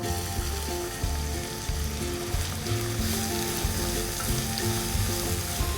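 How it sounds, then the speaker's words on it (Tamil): Two finely chopped onions sauté in a hot pan for kadai paneer, a loud, dense, continuous sizzle with occasional soft stirring knocks, close up and without any voices. "இப்போ லேசாக நம்ம வெங்காயத்தை வதக்கிக்கலாம்"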